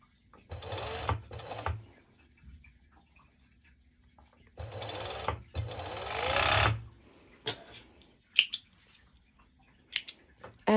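A sewing machine runs a straight stitch on swimsuit bottoms lining in two clear bursts of rapid buzzing, each split into short runs, followed by scattered clicks and fabric handling.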